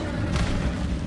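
A dense, rumbling blast from the Confringo explosive spell in Hogwarts Legacy, a sustained low boom with a brief brighter burst in the middle, loud and close with no voices.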